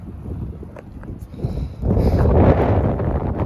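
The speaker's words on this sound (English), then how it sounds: "It's windy" Wind gusting against the microphone during a bicycle ride across Illinois, low rumbling buffeting that swells sharply louder in the second half, no speech.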